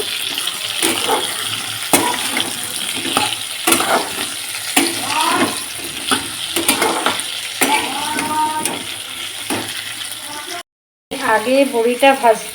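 Spinach ghonto vegetables frying in oil in a pan, a steady hiss of sizzling broken by occasional stirring clatter, close and fairly loud, with a brief gap near the end.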